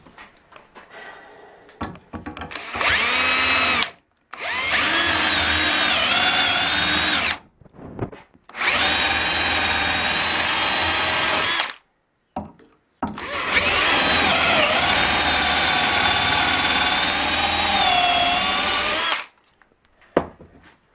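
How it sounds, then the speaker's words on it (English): A power drill bores dowel holes through wooden door-frame pieces held in a dowelling jig, running in four long, loud bursts separated by short pauses, with faint handling noises between them. "drill exactly same number of holes like on this matching piece"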